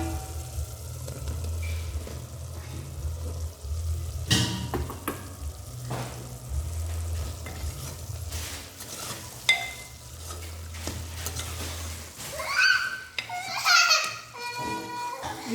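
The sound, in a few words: mushroom curry gravy cooking in a pan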